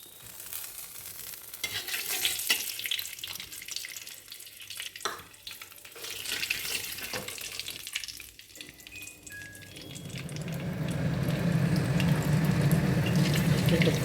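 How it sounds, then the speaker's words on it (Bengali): Black cumin seeds crackle and sizzle in hot oil in a pan, a steady frying hiss that swells louder toward the end, with scattered clinks and stirring noises throughout. "একটুখানি কালো জিরে ফোড়ন দিলাম।"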